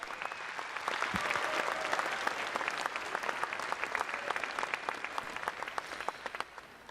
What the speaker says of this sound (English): Give another big round of applause for your grand champion,